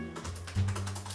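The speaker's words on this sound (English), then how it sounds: "I'm typing." Fingers tapping on a computer keyboard, a short burst of soft clicks heard close up against a faint electrical hum.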